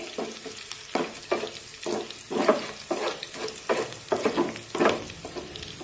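Green chillies sauté in a pan, with a steady sizzle and repeated rhythmic scrapes of a spoon stirring them, close and fairly loud, with no talking.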